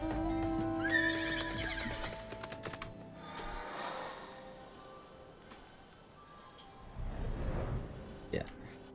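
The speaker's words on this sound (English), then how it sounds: "This is a nice horse." A horse in Final Fantasy XIV gives a clear whinny early on, followed by softer clip-clop of hooves and some faint rustling, all fairly quiet.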